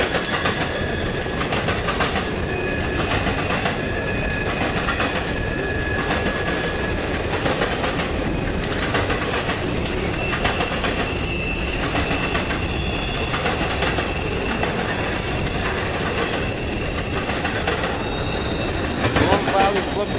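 A CSX freight train of covered hopper cars rolls steadily past close by in Plant City, Florida, wheels clacking rhythmically over rail joints with intermittent metallic squeals throughout.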